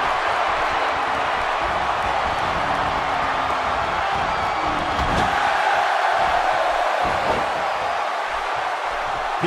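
A wrestling arena crowd in WWE 2K17 gives a steady wash of cheering and roar, loud and continuous, rising slightly midway.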